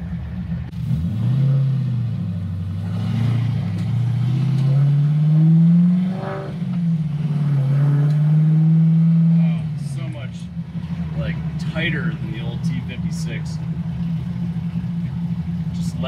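A turbocharged LS-swapped Mazda FC RX7 with a manual transmission drives along, its V8 rumbling loud and close as revs rise and fall through a shift, then settling to a steady cabin drone.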